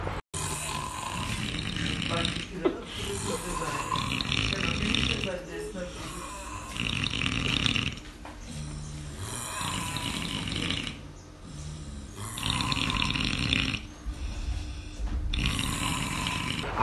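Loud, heavy snoring in long rhythmic rasping breaths that rise and fall about every two to three seconds, close and continuous.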